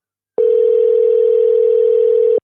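A loud, steady telephone dial tone sounds alone for about two seconds as a call is placed, starting and stopping abruptly.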